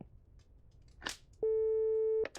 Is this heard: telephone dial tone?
yes